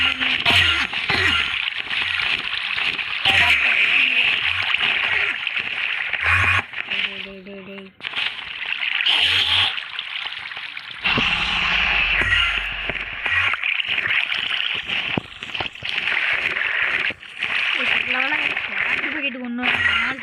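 A water bucket splashes and sloshes in a Minecraft Pocket Edition survival game, with repeated game water sounds running under near-constant talk.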